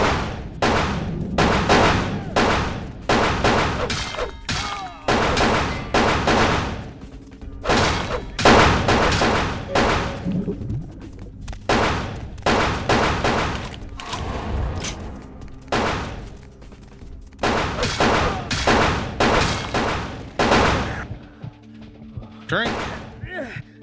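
Repeated loud gunfire and heavy thuds from a Vampire: The Masquerade - Bloodlines fight come in dense bursts with brief gaps, while a player talks over much of the action.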